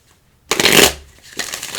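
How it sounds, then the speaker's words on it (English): A deck of playing cards riffled together in a bridge shuffle: a quiet pause, then a loud, close, fluttering burst of cards interleaving, followed by a softer second riffle as the deck bridges back together. "I'm going to do a different shuffle."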